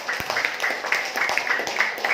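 Seminar audience clapping at a Sharia business seminar by PT BEST in Cilangkap, a dense patter of many hands held at a steady moderate level through the whole stretch, with no talking.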